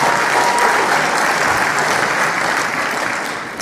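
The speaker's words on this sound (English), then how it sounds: "So we just clapped for Ben comparing primates to humans." A campus debate audience breaks into loud, sustained applause, a dense wash of clapping that tapers off slightly toward the end.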